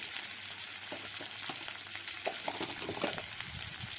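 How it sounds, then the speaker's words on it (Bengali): Spice paste fries in a pan for a bitter bata fish curry, giving a steady sizzle with scattered stirring scrapes and small taps close by. No voices are heard. "আমি এই মশলাটা ভেজে নেব"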